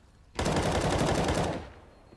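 Rapid rifle gunfire from a Counter-Strike match on the Cobblestone map, a loud dense burst of overlapping shots lasting over a second before cutting off into quieter game ambience.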